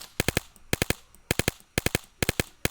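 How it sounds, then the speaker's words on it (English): Muffled, thudding gunshots from a silencer-equipped video game gun fire in rapid bursts of three, repeating steadily with short pauses between, over a faint background hum. "you shoot it, and you can see that the silencer changed the gun's sound"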